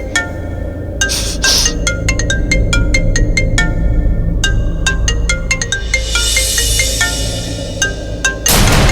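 A mobile phone rings repeatedly in short, evenly spaced bursts over a steady low hum, then stops abruptly as the call is cut off, followed by a brief burst of noise.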